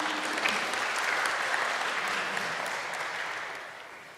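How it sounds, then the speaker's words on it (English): An audience applauds for Claire at a church talk, a steady wash of many hands clapping that holds evenly and then slowly fades away. "Round of applause for Claire."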